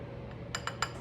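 A metal utensil mixing garlic powder into a sauce, three quick light clinks against the dish in an uneven rhythm, close and fairly soft over quiet kitchen background.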